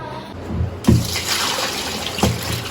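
Meat is dropped into a pot of warm water, giving a brief splash followed by a soft watery slosh and a second small splash, close and fairly loud.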